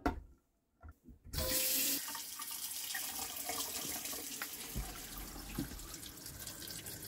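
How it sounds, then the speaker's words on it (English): Tap water runs steadily into a sink and down its leaking drain in a Northwood Arctic Fox camper, a broad close rush that starts abruptly after a brief quiet stretch with a few knocks and carries on without talk. "So the drain on this sink is leaking."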